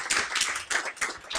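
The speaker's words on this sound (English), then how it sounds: "So we'll have a round of applause for Marianne" A small group at a science campaign's annual general meeting claps briefly for a newly elected member, giving a light, uneven patter of hands in close, quick bursts.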